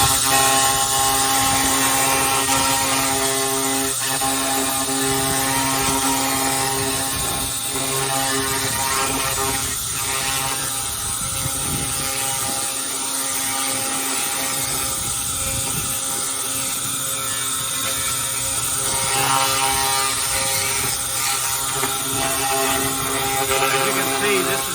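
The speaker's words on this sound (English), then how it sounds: "Here's the 1500 watt laser fired up with air and coolant, 50 amps of service, and I'm going to just hit it on this frame a little bit" A 1500 watt laser with air and coolant cleaning a rusty, greasy 1972 GMC Jimmy frame gives a steady loud hum and buzzing with crackling under continuous hiss, while someone talks over it.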